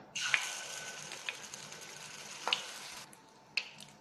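Egg snack batter poured into the hollows of a hot pan with coconut oil, a steady soft sizzle with a few sharp ticks and pops, fairly faint and close.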